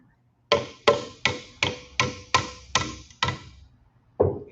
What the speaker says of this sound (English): Brian Brinker, is there a problem with the socket and hammer method